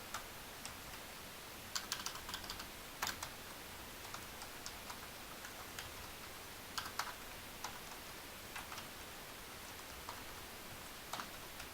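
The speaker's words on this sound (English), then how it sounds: "So you type in your email." Fingers tap out an email address on a computer keyboard in quick, irregular bursts of clicks, fairly close but quiet, with short pauses between groups of keystrokes and no talking.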